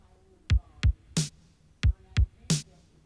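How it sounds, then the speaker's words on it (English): Roland JD-Xi 909 kit pattern of two deep kicks followed by a bright, snappy snare hit, repeated twice, crisp and isolated. "And then we've got a snare drum."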